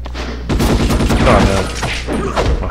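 Rapid gunfire in the PS2 game Ghost in the Shell, a burst of closely spaced automatic shots that rattles loudly for about a second, followed by a few scattered shots and clatter.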